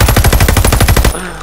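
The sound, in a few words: gunfire from a gun in a video game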